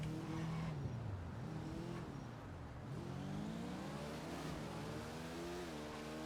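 Motorcycle engine revving and climbing in pitch during a wheelie on a highway straightaway in a video game, with continuous throttle swells and shifts that stay loud and close.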